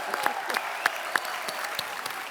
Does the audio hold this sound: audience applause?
yes